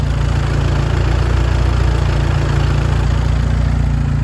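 A rough-running TDI diesel engine idling with a steady, loud, clattering drone and low throb, heard close with no other sounds.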